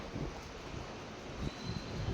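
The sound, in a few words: strong cold wind blowing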